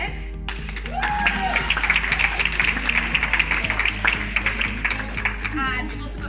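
Applause for award runners-up at a university summer school ceremony: a room of people clapping steadily and fairly close, starting after a brief quiet moment and continuing for several seconds.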